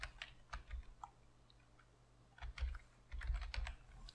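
Someone types text on a computer keyboard in quick, irregular bursts of close, crisp clicks, with a short pause in the middle before the typing resumes.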